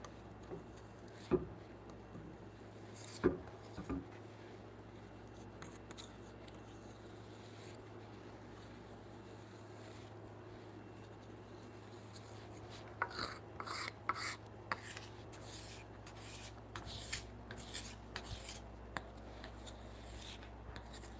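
A thin shim is drawn along a wooden board to spread glue for a two-board side joint laminating a bunk bed beam; soft rasping scrapes come in scattered bursts, quiet and close, with a steady low hum beneath.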